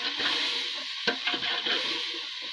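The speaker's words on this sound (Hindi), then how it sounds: "गाइस मसाला हमारा अच्छे से भुन चुका है।" Whole spices, biryani masala, turmeric, salt and dried red chillies frying in oil for aloo pulao, a steady close sizzle with a few scraping stirs of a spoon against the pot.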